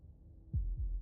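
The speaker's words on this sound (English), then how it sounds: "That was the sound of a heartbeat" Two deep, muffled heartbeat thumps sound in quick succession from the video game Slay the Princess, close and isolated against a faint low hum.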